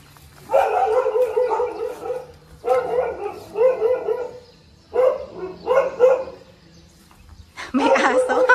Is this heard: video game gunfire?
no